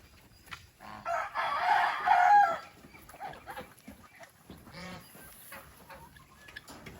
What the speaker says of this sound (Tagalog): Kasi itong manok na to, masyadong ulat.